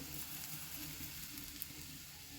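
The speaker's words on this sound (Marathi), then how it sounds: "मूग हे छान परतून घ्यायचे आहे" Sprouted mung beans sauté in a hot pan, giving a steady, close, even sizzle that holds at one level throughout with no voices.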